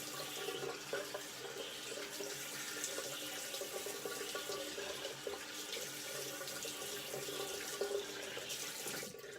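A bathroom water tap runs steadily while someone rinses off after a wet shave, a continuous close splashing hiss for the whole stretch with no talking.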